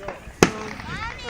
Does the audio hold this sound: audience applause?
no